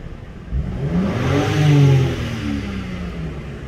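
A BMW M4 Competition (G82) in standard exhaust mode revs once from idle, rising to a smooth peak and falling back, heard close and alone.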